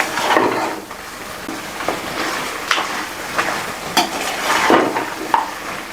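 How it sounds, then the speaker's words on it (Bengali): Spices fry in a pan for a bottle gourd and spinach chorchori, with a soft sizzle under repeated scraping strokes of a spatula and a few metallic knocks, close and uneven in loudness. "মশলা ভালো করে ভাজা হয়ে গেছে"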